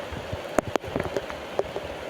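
Rain patters onto a surface at a rubber tapping site, a steady soft hiss of drops broken by a few sharper, close splashes and taps, with no voices.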